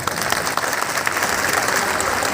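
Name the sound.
audience applause after oath taking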